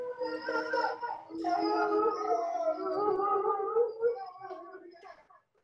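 Dog howling during a birthday gathering, a long, wavering, tonal howl in several drawn-out pulses that rise and fall in pitch, fairly close and fading out at the end.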